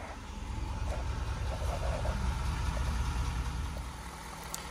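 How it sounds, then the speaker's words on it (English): A 2015 Ford F350 XL 4x4 pickup with a 6.7 liter Powerstroke turbo diesel engine idling, a steady low rumble heard close and alone. ".7 liter Powerstroke turbo diesel."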